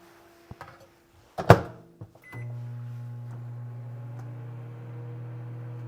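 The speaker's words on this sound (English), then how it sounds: "I'm going to throw this in the microwave for just a couple of seconds" A microwave oven softening cream cheese starts after a few clicks and button beeps, then settles into a steady, loud electric hum that runs alone to the end.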